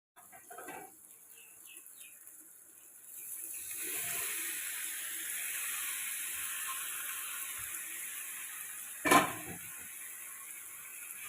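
Mashed soya chunks drop into a hot tempering, and the sizzle swells from a quiet clatter into a steady frying hiss, with one sharp metallic clink near the end.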